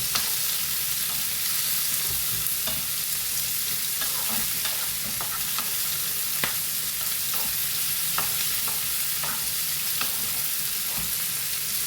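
Chopped large onions and three green chillies fry in hot oil in a pan, a constant close sizzle dotted with sharp crackles and pops and occasional stirring scrapes.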